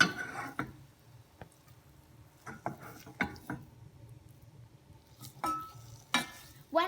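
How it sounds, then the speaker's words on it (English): Choux pastry dough being worked in a pan with a wooden spoon, heard as a run of scattered scraping and knocking strokes at close range, some louder than others, with quiet gaps between them. "I would rather use a wooden spoon to mix."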